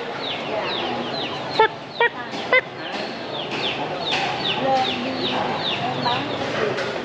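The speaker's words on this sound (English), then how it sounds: "You want small chickens? They got them." Live chickens cluck and squawk steadily at a busy market in Da Lat, Vietnam, close and continuous, with a few sharp knocks and background crowd murmur.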